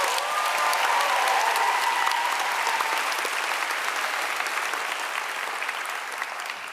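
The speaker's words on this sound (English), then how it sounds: "Can we give them one more round of applause?" Sustained audience applause for a student chorus and orchestra at a university commencement ceremony, dense and steady throughout, gradually tapering slightly toward the end.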